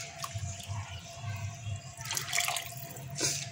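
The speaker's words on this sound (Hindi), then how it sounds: "अब मैं शामिल करूँगी पानी।" Water poured into a pot of rice and chicken for pulao, a steady soft splashing and trickling that swells toward the end, close by, with no speech.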